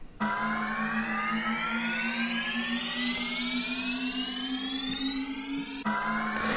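A sci-fi riser synth built in Serum 2, a steady low tone under bright harmonics that sweep upward over several seconds, loud and alone, then drops off near the end.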